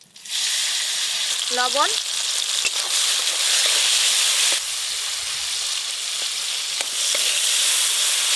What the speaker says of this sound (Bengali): ফোড়ন তো হয়ে গেল, এবার দেব টমেটো কুচি,